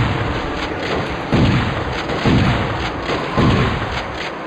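Enemy gunfire in Turok Evolution, with three heavy booming shots at roughly one-second intervals over a dense, loud game soundscape.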